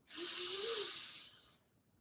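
A slow, soft breath drawn in through the nose during a calm relaxation exercise, a single steady airy inhale lasting about a second and a half, faint and close with no talking.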